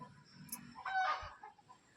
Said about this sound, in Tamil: இந்த கோழி வேறு கத்திக்கிட்டே இருக்குது